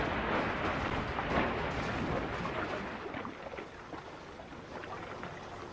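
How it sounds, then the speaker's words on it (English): A locomotive bursts through buffers and splashes into a canal: a loud, broad crash and watery splash that fades gradually over several seconds. "and splashed into the canal."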